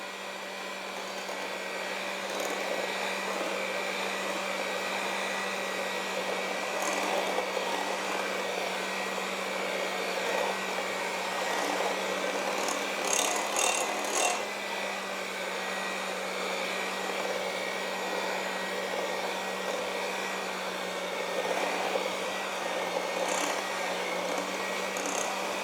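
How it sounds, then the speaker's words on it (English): A stand mixer motor drones steadily and fairly loudly while it works through very thick apple cake batter. A few faint clicks and knocks sit on top of the hum, and no one talks. "let's see if the mixer can handle it"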